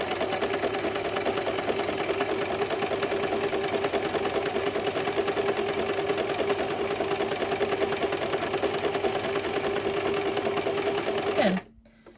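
A sewing machine stitches trim onto fabric with a fast, even whirring hum held under light tension, running steadily and close for about eleven seconds before stopping abruptly.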